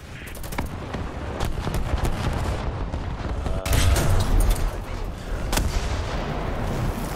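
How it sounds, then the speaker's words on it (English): Artillery fire in War Thunder strikes a tank, heard as repeated heavy booms and blasts over a continuous rumble of battle noise, loud and close throughout. "that artillery round actually hit him"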